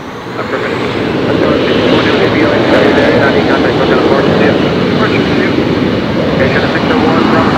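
A jet airliner takes off from runway 24 left at Los Angeles International Airport, a loud, steady engine roar filling the whole stretch, with radio voices faintly under it.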